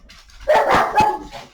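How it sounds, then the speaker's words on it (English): Dogs let out a quick close burst of two or three loud barks within about a second, with no voices. "You won't be able to hear me over these dogs."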